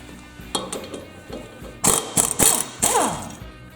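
A socket wrench ratchets a pulley bolt loose on a White Outdoor LT15 riding mower, a close run of sharp metallic clicks in quick bursts, growing louder toward the end, with no voices.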